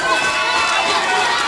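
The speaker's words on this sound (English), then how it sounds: "But the crowd is cheering him on." A wrestling crowd at a CCW Stampede event cheers and shouts steadily for a wrestler caught in a bear hug, a dense, continuous roar of voices under a commentator's talk.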